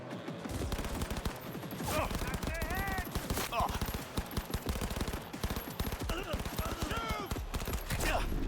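Rapid, repeated bursts from a burst-fire weapon in the shooter Cyberpunk 2077 crackle loud and close almost without pause, with voices and game sound effects mixed into the barrage.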